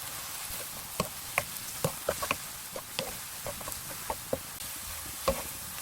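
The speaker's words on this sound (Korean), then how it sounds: "그래서 잘 볶아주세요. 고루고루 볶아주세요." Korean fish cakes seasoned with soy sauce, tuna extract, chili flakes and sugar are stir-fried in a pan, a quiet sizzle punctuated by scattered light taps and scrapes of a utensil tossing the pieces.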